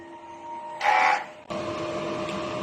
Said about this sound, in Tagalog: Punasan ng wiper pagkatapos mag-head clean.